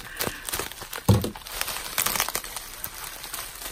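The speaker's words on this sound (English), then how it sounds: "I guess I unwrap it" Paper wrapping on a mailed gift is torn and crumpled close up in bursts of crinkling and ripping, with one sharper rustle and short quiet gaps.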